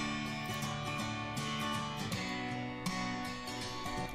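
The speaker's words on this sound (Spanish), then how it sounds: "tengo aquí una muestra de sonido de guitarra acústica" Strummed acoustic guitar with no effects, steady chords ringing loudly and evenly for a few seconds without any talking.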